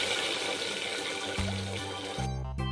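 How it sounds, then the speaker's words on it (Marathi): A little water is poured into spices roasting in a pan, a brief, close gushing splash with some sizzle, with no speech. "त्यामध्ये थोडंसं पाणी टाकून द्यायचं."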